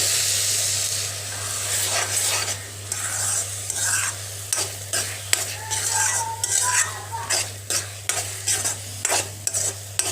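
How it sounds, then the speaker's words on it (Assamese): A spatula scrapes rhythmically around a wok, regular metallic strokes over a soft sizzle of a raw papaya barfi mixture with Amul milk cooking down, close by and without talk. "এইখিনি শুকাই নোযোৱালৈকে মই এনেকৈ লৰাই থাকিম কেৰাহীখনতে"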